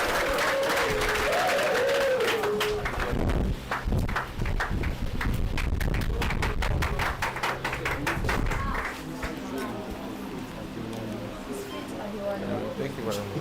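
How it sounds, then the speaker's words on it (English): An audience applauds to welcome a speaker at a bootcamp event, a dense burst of many hands clapping that thins out and fades after several seconds, with a voice talking over it. "Don't stop clapping until he gets here, please."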